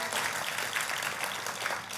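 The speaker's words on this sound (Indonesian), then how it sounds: "Kasih tepuk tangannya yang meriah buat Tuhan kita." A church congregation applauds during a sermon, giving a steady, dense wash of clapping at moderate volume that holds for a few seconds with no individual claps standing out.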